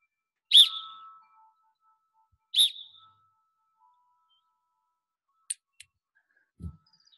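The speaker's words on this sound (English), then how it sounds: "So I'm gonna blow the whistle." A coach sounds two short, sharp whistle blasts about two seconds apart in a quiet indoor space, followed by a few faint clicks and a soft thump.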